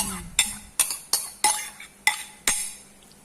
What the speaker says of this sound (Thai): มาคนคนเลยครับพี่น้อง